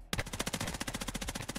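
A gun in a VRChat roleplay shooter fires a rapid, evenly spaced automatic burst of about twenty loud close shots within a second and a half.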